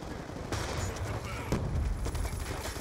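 Rapid gunfire bursts from Call of Duty Black Ops 2 multiplayer, with repeated broadband shots across the clip and a heavier volley near the middle, mixed with constant game background noise.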